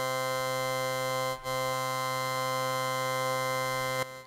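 Steady buzzy drone from a Make Noise Strega synthesizer played through its activation touch bridge, a sustained harmonic tone that briefly dips twice, close and moderately quiet with no speech.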